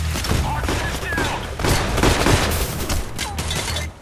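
Gunfire rattles through a shootout in the video game Payday: The Heist, with a dense run of sharp shots and booms filling the whole few seconds at steady loudness.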